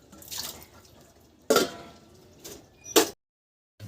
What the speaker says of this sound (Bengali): বাসন ধুতে হচ্ছে বন্ধুরা আমাদের।